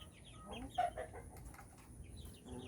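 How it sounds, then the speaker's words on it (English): Baby chicks newly mixed with an older backyard flock give soft, faint clucks and chirps in the distance, scattered against quiet outdoor background noise. "I wonder if they're going to try to go inside here and roost with the bigger chickens"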